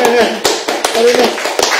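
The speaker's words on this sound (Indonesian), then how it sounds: "beri tepuk tangan dulu dong" A small studio audience at a talk-show taping gives a few scattered, sharp claps under ongoing speech, rather than sustained applause.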